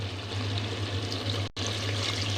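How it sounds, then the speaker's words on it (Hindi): Water is poured steadily into a taro and meat curry (arvi gosht salan) cooking in a pot. The soft, continuous trickle stops very briefly midway, then carries on without any talk. "अब थोड़ा सा हम इसमें पानी डालेंगे।"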